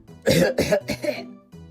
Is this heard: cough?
yes